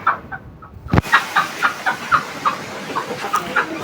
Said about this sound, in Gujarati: આ છે આપણે કુકડા